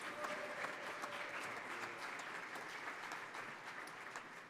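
An outdoor jazz concert audience claps for a musician, a steady wash of applause from a crowd heard at a moderate distance, fairly soft and even throughout.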